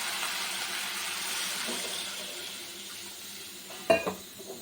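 Spice paste in a frying pan hisses with a steady sizzle at moderate volume as water is poured in, and a sharp clink of utensils on the pan comes near the end.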